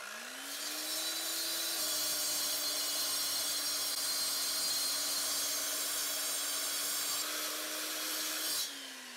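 A concrete saw whines up to speed and cuts steadily through a concrete block with a loud, continuous grinding roar, then spins down at the end.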